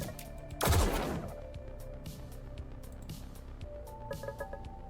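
A weapon fires in Echoes, a Lucid9 fangame, as one loud, booming blast that decays quickly, then softer clicking and beeping interface tones over a steady background hum.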